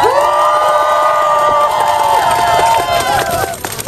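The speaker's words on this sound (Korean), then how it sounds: "다시 힘찬 박수와 함성으로 시작하도록 하겠습니다." A loud crowd at a Korean political campaign launch rally cheers, whoops and applauds continuously, close and energetic, with a few voices shouting over the clapping.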